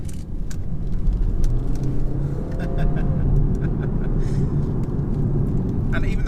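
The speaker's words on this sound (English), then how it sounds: "And even though it's a diesel, it loves to rev out." A 2020 BMW 320d diesel revving as it accelerates along a narrow country road, its engine droning loudly under the steady rumble of road and wind noise, with brief sharp clicks in the cabin.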